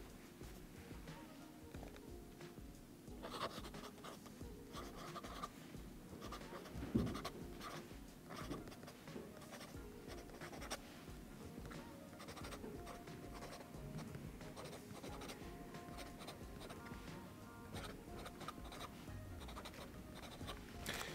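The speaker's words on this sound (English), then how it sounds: "as soon you put the nib on paper, the ink flow is really extraordinary" A Sailor King of Pen fountain pen with a medium 21k gold nib scratches steadily across paper in a continuous, close, fairly quiet writing sound, with no one talking.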